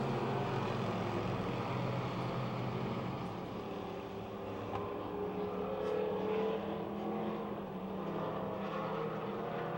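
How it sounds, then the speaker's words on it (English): Race cars at Pennsylvania Motor Speedway near Pittsburgh roar around the oval. The engine noise is steady and fairly distant, forming one continuous blended drone. "Coming out of turn four, it's still Hutchko over Catellis and Broniszewski"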